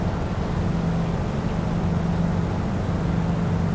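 A helicopter engine in the WINGSFlight flight game drones on at a steady, loud level, with a constant low hum and broadband whine and no break in the sound.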